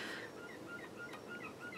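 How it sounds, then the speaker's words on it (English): Seagulls call outside a room, a few faint, distant cries drifting over steady background noise. "Oh, can you hear the seagulls outside?"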